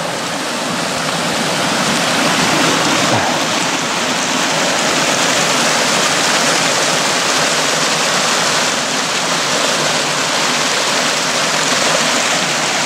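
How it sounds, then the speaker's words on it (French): A small stream runs through damp woods in the Vosges, a steady, close, broadband rush of water flowing without a break and with no voices. "un joli petit ruisseau."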